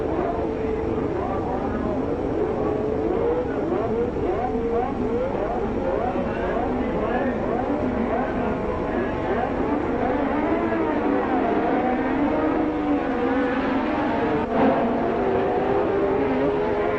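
Field of 1968 Formula 1 cars on the grid at the Canadian Grand Prix revving their engines before the start, a dense, distant wash of overlapping rising and falling engine notes, continuous throughout.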